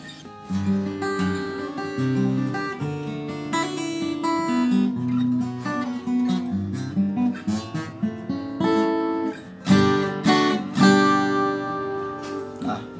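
A small-bodied Taylor acoustic guitar strummed and picked in a steady, bright passage, close and clear, with no voices.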